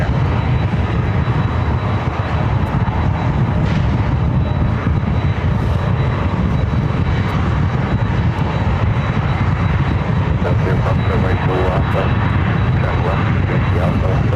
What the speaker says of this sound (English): That was a Yun Express heading to Anchorage, a 777 freighter, Alice Air